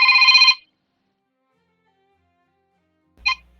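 A phone rings with a suspected spam call, a short bright electronic ring tone burst, then silence, then a second brief ring cut short.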